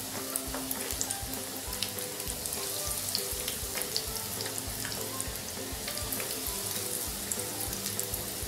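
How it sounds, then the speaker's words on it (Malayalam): Coated prawns deep frying in hot oil over a medium flame, a steady close crackling sizzle with fine popping throughout, no talking. "നമ്മൾ ഈ കോട്ടിങ് ചെയ്ത് വെച്ച ഓരോ പ്രോൺസായിട്ട് നമ്മൾ ഇതിൽ എടുത്തിട്ട് ഡീപ് ഫ്രൈ ചെയ്തെടുക്കും"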